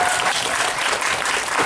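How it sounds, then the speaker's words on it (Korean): A brief burst of steady audience applause at a Korean film talk event for the movie National Representative 2, dense clapping filling the hall with no speech over it. "박수 한번 부탁드리겠습니다."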